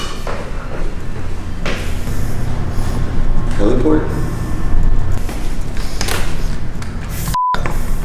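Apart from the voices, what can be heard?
locked rooftop door being tried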